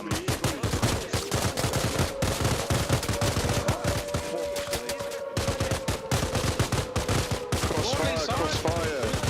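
Sustained automatic and single-shot rifle fire in Arma Reforger, dense rapid bursts crackling nonstop from close and mid range, with a tank engine droning underneath and brief radio-style voices cutting in.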